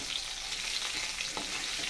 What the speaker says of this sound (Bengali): হয়ে গেল আমার মাছ ভাজা।